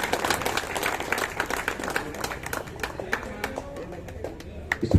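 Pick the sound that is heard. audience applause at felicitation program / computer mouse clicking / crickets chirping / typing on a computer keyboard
audience applause at felicitation program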